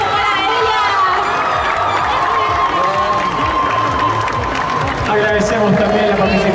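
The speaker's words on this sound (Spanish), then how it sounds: "¡Fuerte el aplauso para ellas!" Audience at an anime convention cosplay awards ceremony cheering and applauding the winners, a loud continuous crowd roar with shouts, under an announcer's amplified voice.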